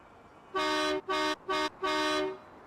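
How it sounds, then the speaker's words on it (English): A truck horn in Farming Simulator sounds four loud, tonal honks in quick succession, the last held longest, with nothing else heard. "I do like the horn."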